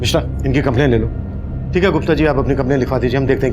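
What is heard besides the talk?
No distinct noise like a dog, phone or traffic.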